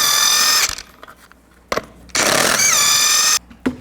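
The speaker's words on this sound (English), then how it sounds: "Take the lug nuts off, use the same 22mm socket." An impact wrench with a 22mm socket spins lug nuts off a Chevy Silverado 2500 wheel, in three loud, close, high-pitched whirring bursts separated by short pauses and clunks.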